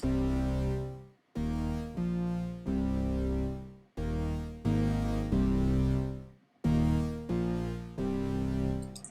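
A dry synthesizer plays sustained, buzzy notes in short phrases, each cutting off abruptly with no echo or reverb tail.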